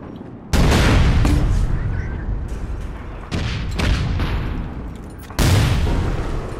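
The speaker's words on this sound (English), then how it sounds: "He has a grenade launcher!" Grenade launcher firing in the online shooter APB Reloaded, a few heavy booming blasts, three loud broadband bursts spaced seconds apart with rumbling tails in between.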